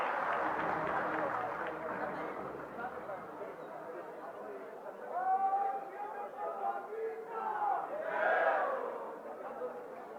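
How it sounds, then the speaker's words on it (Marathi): A large outdoor crowd at a Satara political event for Maharashtra Chief Minister Devendra Fadnavis claps and cheers in a dense, loud roar that fades somewhat, while voices shout and chatter over it. "एकदा जोरदार टाळ्या झाल्या पाहिजेत देवेंद्रजी फडणवीस साहेबांसाठी"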